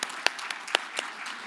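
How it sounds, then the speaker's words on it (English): A handful of separate claps ring out at a film festival press conference, sparse and uneven, like the first scattered hands of applause starting up. "a round of applause for everyone who has a film in the festival this year"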